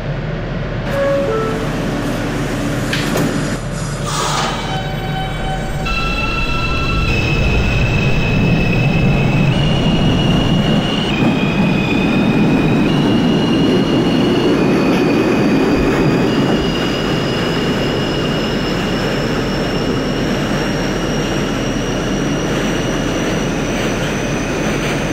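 An Alstom R160A-2 subway train pulls away in an OpenBVE cab-ride simulation of the R line. Traction motors whine with a steadily rising pitch over continuous wheel and track rumble, loud and close, with no talk.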